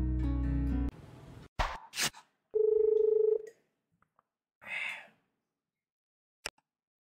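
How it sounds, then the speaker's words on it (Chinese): Phone dialing a call in the Steam game 大多数 (The Majority): a steady tone opens, followed by short clicks and a sustained ringback beep, then a soft breathy gasp and a faint tick, with no talking. "给班主任宋老师拨通电话"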